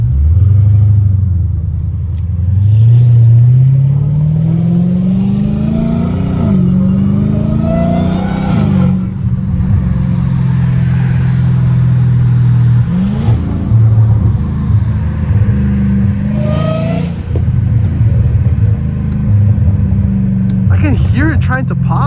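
A catless Dodge Challenger Hellcat Redeye with a catback exhaust roars loud and close, its engine rising and falling through several revs and accelerations. Talk carries over the rumble.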